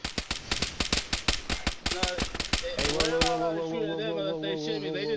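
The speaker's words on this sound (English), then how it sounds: "They know they were shooting from inside the store." Rapid gunfire rings out in a fast, evenly spaced burst of sharp shots during a shootout from inside a store, then stops as a voice speaks over the aftermath.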